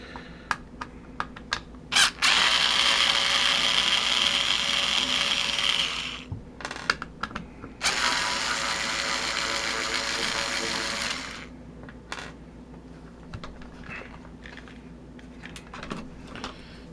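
Screws being worked out of a Nikko Brat hobby RC car, with close, busy mechanical whirring bursts from a small electric screwdriver and intermittent light clicks and rattles of screws and plastic between runs.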